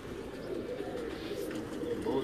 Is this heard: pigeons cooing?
yes